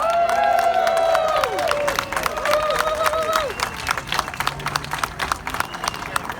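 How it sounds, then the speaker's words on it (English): Crowd at a Bring Them Home rally in San Francisco claps and cheers for the police, loud at first and then thinning into scattered claps, with a whistle-like tone and voices mixed in. "Give them a round of applause"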